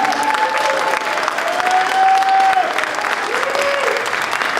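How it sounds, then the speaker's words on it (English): Awards celebration crowd gives a big round of applause for an honoree, steady dense clapping with whistles and some cheering and voices mixed in. "I want you to give a big round of applause for Brother Brian Herring"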